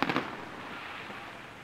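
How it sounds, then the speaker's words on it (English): A big, loud firework burst on the Fourth of July opens with a sharp crack, then rolls into a long, dense rumbling wash that fades slowly, with no talk. "Now those are loud fireworks and big."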